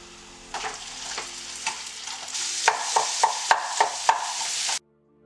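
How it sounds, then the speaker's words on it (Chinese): Steamed purple sweet potato with sugar, cinnamon, salt and vegetable oil is mashed over low heat in a nonstick pan: a sizzling hiss punctuated by a run of evenly spaced thumping presses, then silence. "将紫薯、糖、肉桂粉、盐、植物油放入不粘锅内，小火捣碎"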